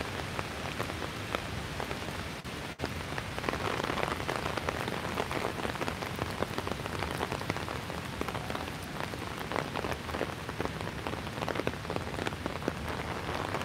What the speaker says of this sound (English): Now it's raining hard on both sides of the street.